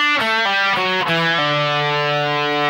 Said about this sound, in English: Now with the D we're going to have this single note riff